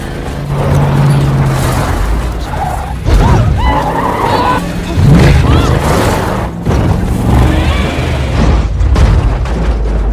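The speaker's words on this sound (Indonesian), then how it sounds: "Mobil mereka terguling, namun mereka berdua selamat." A car skids and rolls over in a crash, heard as a run of loud, heavy booming impacts with crunching and shattering bursts over a constant low rumble, repeated across the scene.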